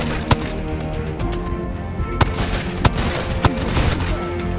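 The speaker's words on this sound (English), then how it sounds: "Are they shooting him right now?" Gunfire in Ghost of Tabor, a VR shooter, with four sharp separate shots spread over a few seconds above a dense, steady background of game noise and rumble.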